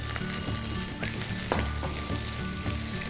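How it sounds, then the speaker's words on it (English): Minced ginger and a few green chilies sizzle steadily in hot oil in a pan, a close, continuous crackling fry with small pops throughout. "Into the oil goes the minced ginger, and a few green chilies."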